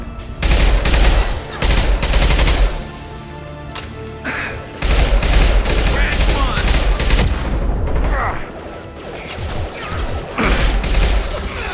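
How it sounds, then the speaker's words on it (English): Dense gunfire in a sci-fi shooter game, where an impact shot is fired from a rifle during a battle with mercenaries storming a base. Loud bursts and rapid volleys continue for several seconds with short pauses, and game voices can be heard underneath. "Firing an impact shot!"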